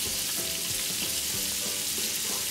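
Scallops searing on a hot griddle over high heat, a steady close sizzle with light clicks and scrapes from handling, no voices.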